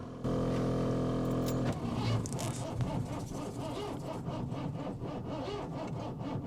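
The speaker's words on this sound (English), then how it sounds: "So now it's cranking over hard, so it's too far advanced." A 1986 Ford F150 engine with timing set too far advanced, cranking hard under a loud, steady starter whine that shifts into labored, uneven churning, close and without talk.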